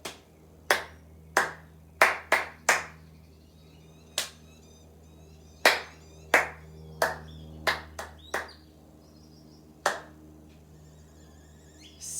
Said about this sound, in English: clap it, go.